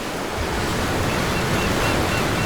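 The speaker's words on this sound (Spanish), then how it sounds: "En la vasta extensión del océano, donde fuertes vientos barren constantemente la superficie del agua" Ocean surf and strong wind sweep over the open sea in a steady, dense wash of noise, with waves rolling continuously and wind buffeting the microphone throughout, no voices present.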